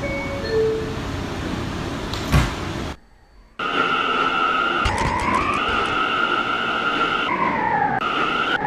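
R179 subway train on the M line in Roblox, a steady rumbling roll with a short silent gap followed by rising and falling motor whine tones as the train moves, loud and continuous.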